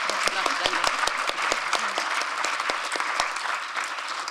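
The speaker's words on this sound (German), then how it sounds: "das ist mal einen Applaus wert." An audience at a congress on women and integration claps steadily, with many sharp individual hand claps standing out near and clear against a dense wash of applause, with no voices heard.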